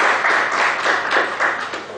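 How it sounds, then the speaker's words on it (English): Audience applause for two speakers after a presentation on transfer pricing compliance, a short burst of close, loud clapping with a loose pulsing rhythm. "Big round of applause for both the speakers."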